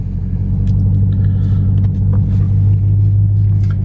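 A 2015 Dodge Charger Hellcat idles on its red key, a deep steady rumble that stays loud and close throughout with no speech.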